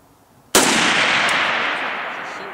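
An AK-47 rifle firing outdoors, a single loud, sharp report followed by a long, slowly fading echo that washes over the background.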